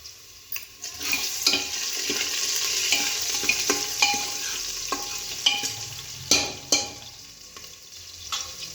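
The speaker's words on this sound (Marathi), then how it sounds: "कांदा छान परतून झालेला आहे." Onion for chicken rassa sautés in a pan with a steady close sizzle, broken by repeated scraping stirs and clicks of a spoon against the pan, with no voices.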